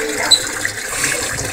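Water runs steadily into a sink being filled for washing a glittery frog skin puppet, a continuous close splashing rush with small clinks, and a voice faintly beneath.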